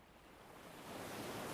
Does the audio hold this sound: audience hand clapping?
no